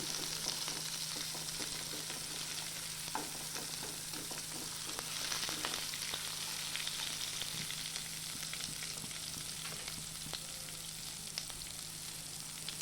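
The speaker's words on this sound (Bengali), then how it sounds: "আদা কুচিটা আর পেঁয়াজটা একসাথে ভেজে নেব।" Onion and chopped ginger frying together in a pan, a steady low sizzle with scattered faint stirring scrapes throughout, close and even.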